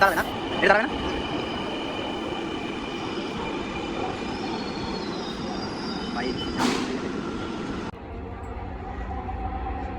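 A commuter train on a Dhaka rail line rumbles steadily past at close range, with wheel clatter and brief metallic squeals near the start and again mid-way before the noise drops abruptly.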